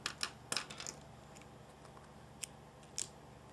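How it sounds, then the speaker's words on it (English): Scissors snip through crochet yarn on an amigurumi giraffe, a few quiet crisp clicks clustered at the start and two more isolated snips later, close and soft over a faint background. "Now I'm just going to cut this off"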